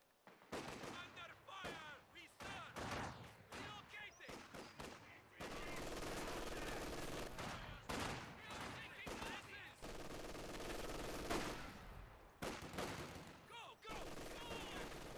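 Machine gun fire and other gunfire in the World War II strategy game Company of Heroes 2 on the Steppes map, dense loud bursts and rattling volleys in layered battle noise, with someone talking over it at times.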